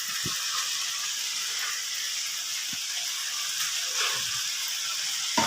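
Jackfruit seeds frying with crushed chilli and pepper powder in a pan give off a steady, even sizzle and hiss that runs unbroken throughout, with a few faint low clinks beneath.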